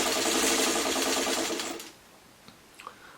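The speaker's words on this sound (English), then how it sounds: "So now I'm just going to sew this one real quick" A sewing machine runs fast and steady stitching a quilt block for a cream pitcher design, loud and close for under two seconds before stopping, followed by a couple of faint clicks.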